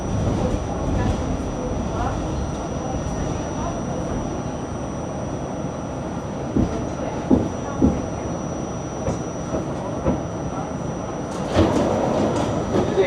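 A subway train rumbles steadily through an Astoria station in New York City, with scattered clacks and a louder screeching swell near the end.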